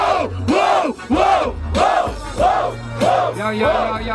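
A crowd at a Brazilian rap battle semifinal in Barueri shouts in unison. Loud rhythmic chanted yells repeat about every half second, with voices overlapping in a dense, close roar.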